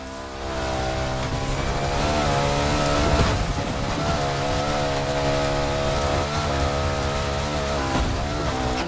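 A BMW R1200 GS adventure motorcycle engine runs at a steady, loud drone with strong harmonic hum, holding an even pitch with small swells throughout, no talking.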